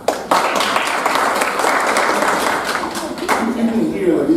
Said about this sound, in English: But give you guys a round of applause.